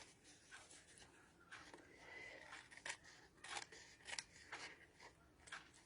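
Scissors snip through paper in a quiet crafting session, a series of short crisp cuts spaced irregularly, close and faint, with no talking.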